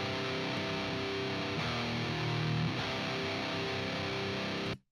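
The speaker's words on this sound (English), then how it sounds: "I'm mainly using it to drive the mic transformer because you get a nice little bit of extra distortion from it" Electric guitar chords driven through a Neve 73 preamp plugin for transformer saturation, a sustained gritty distorted tone holding steady with a chord change midway before cutting off abruptly at the end.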